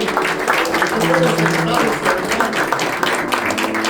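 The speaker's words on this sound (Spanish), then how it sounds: "Dale una ofrenda de palmas al Señor." A church congregation clapping hands together at a Friday prophetic service, continuous brisk clapping with music and voices underneath.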